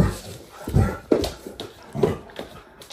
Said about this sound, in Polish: Zobaczcie, jak szczeka.